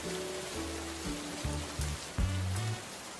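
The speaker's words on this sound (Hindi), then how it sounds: "एक भयानक तूफान और मूसलाधार बारिश शुरू हो गई" Heavy rain pours down during a violent storm, a dense, steady hiss of downpour running throughout, with tonal music sounding over it.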